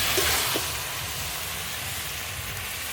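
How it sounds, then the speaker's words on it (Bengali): Mutton with whole garlic cloves is stirred and fried down in a pot, a loud, continuous broad hiss with a brief scrape near the start, heard close with no talking. "এবার নেড়ে নেড়ে খুব ভালো করে কষিয়ে নেব"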